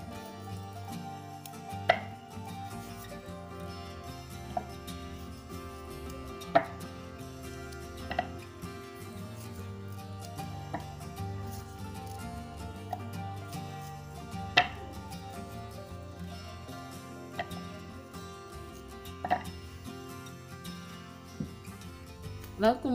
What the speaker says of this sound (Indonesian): Kita potong kecil-kecil.